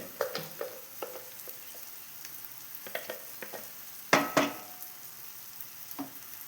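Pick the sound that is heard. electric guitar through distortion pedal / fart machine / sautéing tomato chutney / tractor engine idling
sautéing tomato chutney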